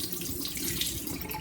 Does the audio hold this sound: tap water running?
yes